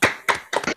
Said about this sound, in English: if you want to just come off mute briefly and just give Mandi a little round of applause